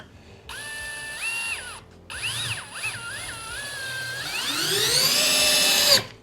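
A Black Zero cordless drill drives a screw into wood, its motor whining in rising and falling pitch with a brief pause, then climbing steadily in speed until it cuts off abruptly near the end, close and loud, with no talking.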